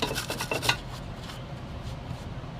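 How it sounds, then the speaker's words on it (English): Scraping and rubbing as the face of a rear brake caliper on a Toyota Camry is cleaned, a few quick rasping strokes up close that fade into quieter handling noise, with no talking. "Take our caliper and just clean the face."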